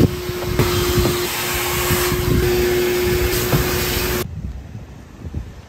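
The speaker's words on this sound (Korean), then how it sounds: "진공청소도 한번 해볼까?" Free coin-style vacuum cleaner at a no-touch car wash runs with a loud steady roar and tonal whine, close to the microphone, then cuts off abruptly near the end, leaving quieter background noise.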